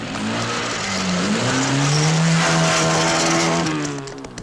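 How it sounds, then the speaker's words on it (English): Paddy Hopkirk's Triumph rally car, running with its rear tire gone, screams up an Alpine hill climb in the 1958 Coupe des Alpes. The engine note rises and sweeps in pitch as the car passes fairly close, loud and steady, with no talk. "Already the first car is screaming towards the summit."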